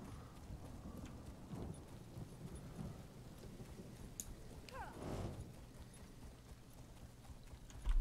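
Horse hooves clip-clop on the ground in Elder Scrolls Online, a soft, fairly quiet run of rhythmic hoofbeats, with faint voice and game ambience underneath.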